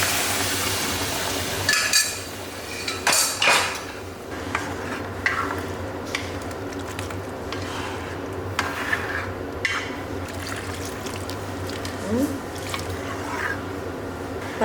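Mutton-boiling water poured into a mutton bone curry (elumbu kulambu) in a pot, heard as steady liquid splashing and dripping with a few clinks of utensils against the vessel, close by in a quiet kitchen.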